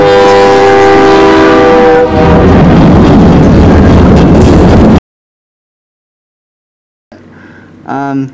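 A loud, sustained train horn blares for about two seconds, followed by the roar of a passing train that cuts off abruptly; brief talk follows.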